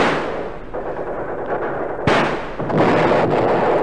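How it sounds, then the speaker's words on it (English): Grenade explosions and gunfire in a World War II radio drama battle against Japanese troops, a dense continuous roar of shots and blasts with a sharp loud burst midway, heavy and close. "Swing that bag of grenades across, Walt."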